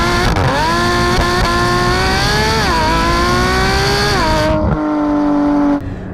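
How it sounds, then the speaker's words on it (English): A Porsche Cayman GT4's flat-six engine revs loud and close, pitch climbing and dipping through several surges before settling to a lower drone and cutting off near the end. "is what a flat six should sound like"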